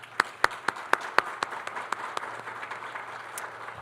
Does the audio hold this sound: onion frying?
no